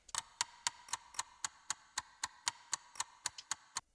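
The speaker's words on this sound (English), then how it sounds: "Add some clocks with reverb." Clock ticks drenched in reverb form a steady run of about fifteen crisp, evenly spaced clicks, each leaving a short echoing tail, set for a trap production.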